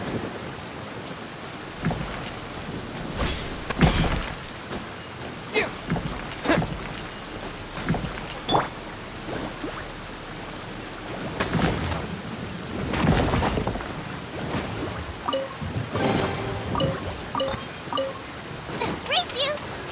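A thunderstorm rolls through the game Genshin Impact, with steady rain hissing throughout and several rumbling thunder cracks rising out of it at intervals, moderately loud.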